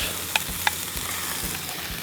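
Diced, peeled Granny Smith green apples hitting a hot pan with a steady, loud sizzle throughout, plus a couple of faint clicks near the start.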